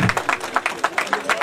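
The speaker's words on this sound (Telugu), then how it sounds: "క్లాప్స్ కొట్టండి అందరూ." Audience clapping at a city festival prize ceremony, a steady patter of hands with a few sharper peaks, fairly close, no voices over it.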